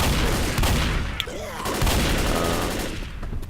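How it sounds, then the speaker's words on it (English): Sustained gunfire from shooting zombies in the Left 4 Dead video game, dense overlapping shots with game effects and a brief rising tone, loud and continuous throughout. "Shoot some zombies."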